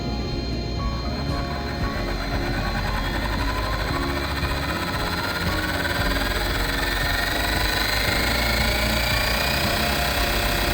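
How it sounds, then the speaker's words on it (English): A model helicopter's electric motor, checked without rotors installed, runs continuously at close range with a steady mechanical whir and rattling hum that gradually rises in pitch as it spools up. "Start the motor."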